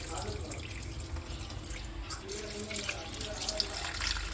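Dried fish being rinsed by hand in water, with steady splashing and dripping, close and fairly quiet, under a faint voice.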